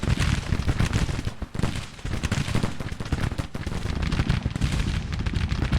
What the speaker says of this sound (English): Turn and shoot. Come on, Roger Hansen, you've got some good muskets.